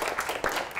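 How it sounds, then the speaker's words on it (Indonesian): Brief scattered hand clapping from a classroom of students during a chemistry lesson, a short burst of claps heard close and fairly steady over less than a second. "Okey, tepuk tangan."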